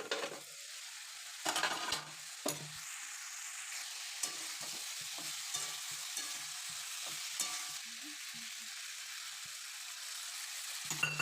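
Vegetables sautéed together with oil and spices in a home kitchen pan, with a steady hiss of frying and intermittent scraping and stirring knocks from a utensil, heard alone without talk.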